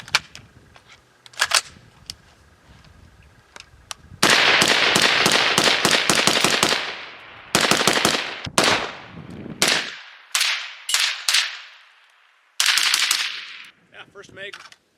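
AR-15 rifle fire from magazines that were left loaded for a long time: single shots early, then rapid strings of sharp, loud cracks with short pauses, close by outdoors.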